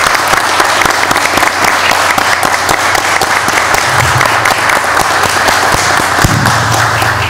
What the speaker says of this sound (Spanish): voy a pedir un fuerte aplauso para este comité